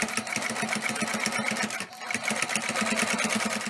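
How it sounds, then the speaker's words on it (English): Sewing machine stitching a zipper seam on a circle pouch, with a fast, even, close mechanical rattle that stops briefly midway and then starts again, as when a backstitch is sewn. "Start sewing 3 or 4 stitches and sew back and come back."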